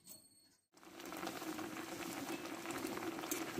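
Drumstick leaves simmering in a pan with salt and baking soda, a steady close bubbling and hissing that starts abruptly after a brief quiet moment and continues evenly.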